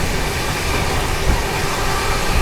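A Duronto Express train on the Mumbai Central to Nizamuddin run at a flat 130 km/h, a loud, dense and steady rush of wheels and rail noise with deep rumble, heard close from onboard, no talking.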